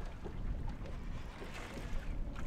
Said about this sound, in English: Dealing with a lot of wind.